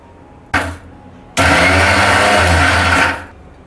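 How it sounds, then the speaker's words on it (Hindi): A kitchen mixer grinder jar grinds biscuits into a fine powder, with a short first burst and then a loud, steady whirring run of about two seconds that stops abruptly. "अब हम मिक्सर जार का ढक्कन बंद करके और इसका एकदम फाइन पाउडर बना के तैयार कर लेंगे।"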